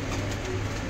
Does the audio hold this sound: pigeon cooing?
yes